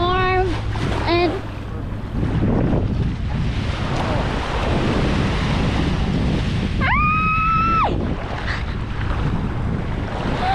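Warm surf washes in at An Bang Beach near Hoi An, Vietnam, with steady wind buffeting the microphone throughout, broken by brief voices and a whistling tone near the end.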